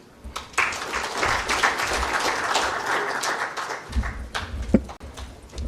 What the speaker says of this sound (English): Maybe you can give him another round of applause.